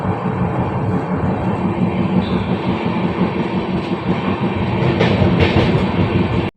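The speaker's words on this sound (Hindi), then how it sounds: "यहाँ से आप ट्रेन बहुत ही तगड़ी स्पीड पकड़ेगी" The U.P. Sampark Kranti express, running about four hours late, rumbles steadily along the rails at speed, a loud continuous roar with faint clickety-clack, heard from on board with no talking.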